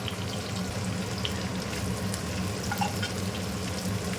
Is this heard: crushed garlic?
yes